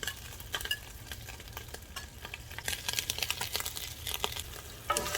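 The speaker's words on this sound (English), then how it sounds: "So I'm stirring this up." Salt and sugar being stirred into rib stew in a dish, a utensil scraping and clicking repeatedly over a soft sizzle, close and fairly steady.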